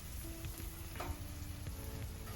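Halved avocado searing on a hot outdoor grill gives a steady, dense sizzle and crackle close by, continuous throughout with no voices.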